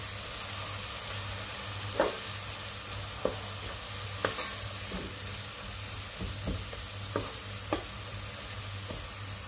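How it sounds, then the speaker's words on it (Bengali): Dried fish sautéing with bean seeds, eggplant and potato in a pan, a steady close sizzle with intermittent scraping and clacking as a spoon stirs the mixture. "মিশিয়ে আমি একটু কষিয়ে নেব ভালো করে"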